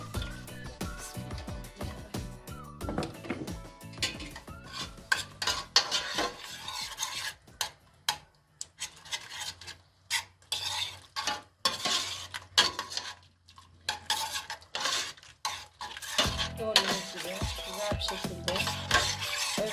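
Tomato paste stirred and frying in a pot for Turkish restaurant-style dried bean stew, with scraping spoon strokes against the metal and light sizzling, clattering unevenly in close, busy bursts with brief pauses.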